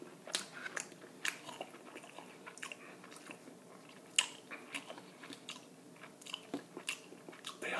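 Crunchy sweet potato fries from White Castle being eaten close up, a run of soft irregular crunching bites and chewing sounds at a quiet whisper-level volume, with no speech.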